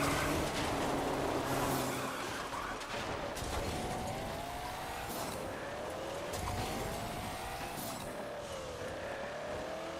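A race car in MotorStorm Apocalypse spins out: engine whine rising and falling in sweeping pitch bends amid loud tire noise, scraping and impact thumps, sustained racing roar throughout.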